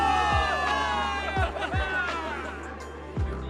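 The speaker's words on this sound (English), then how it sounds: "Give it up for yourselves, soldiers! Cheer for victory!" A crowd of soldiers cheers a victory in the video game Zenless Zone Zero, with a broad roar of mixed shouts and whoops and several sharp thumps punctuating the cheering.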